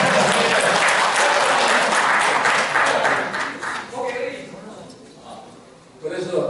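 Applause at a citizens' round-table meeting in a city hall conference room, a dense burst of clapping that fades after a few seconds, leaving a voice talking before a brief swell returns.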